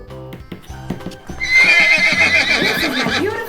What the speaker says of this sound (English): This is my beautiful brown horse.